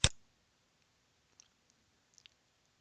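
A single crisp computer mouse click up close in a quiet room, followed by a few faint tiny ticks.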